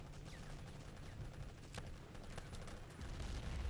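Rifle gunfire in the video game Battlefield 1942 sounds as a scattered volley of distant, fairly faint shots over a constant noisy background, with a few sharper cracks standing out.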